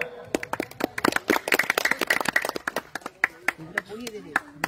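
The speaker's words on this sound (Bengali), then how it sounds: "এদের জন্য একটা জোরে হাততালি হয়ে যাক।" Scattered, uneven hand claps at a ceremony during a cricket tournament, a small crowd clapping in irregular bursts with voices talking over and between the claps.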